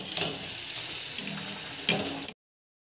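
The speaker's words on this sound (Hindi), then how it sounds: "पूरी हमने सारे तल के निकाल लिए हैं" Rice flour pooris fry in hot oil, giving a steady bright sizzle and crackle with a few sharper pops, no talk, before it cuts off.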